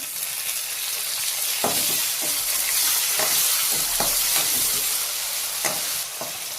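Tomatoes sautéing in oil over a paste of ground garlic, ginger and coriander, with a steady loud sizzle throughout and intermittent scraping stirs of a spoon in the pan, close up.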